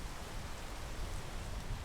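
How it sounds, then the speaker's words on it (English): Steady rain falling in the climbing video game PEAK, a quiet, even hiss of droplets with no speech over it. "I need to wait a bit for the rain."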